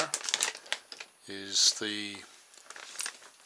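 Thick, stiff plastic from a coffee bag crinkles and crackles close up in a steady scrunching rustle, while someone talks over it.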